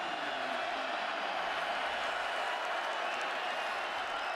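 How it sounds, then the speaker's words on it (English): A college football stadium crowd at Norman, Oklahoma, roars steadily during a Sooners home game against Iowa State, a loud, dense, continuous cheer with no breaks. "3rd down and 19 from the 1, and here comes the crowd."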